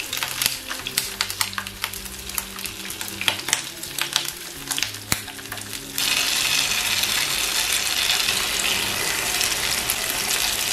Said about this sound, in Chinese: 给它煎至虎皮状。